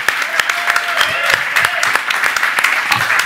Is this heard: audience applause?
yes